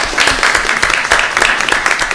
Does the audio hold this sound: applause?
yes